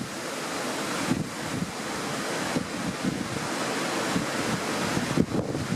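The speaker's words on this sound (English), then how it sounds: "it is bloody windy" Strong wind buffets across an open farm field during ploughing, a loud continuous roar with gusty microphone rumble and surging bursts, with no voices.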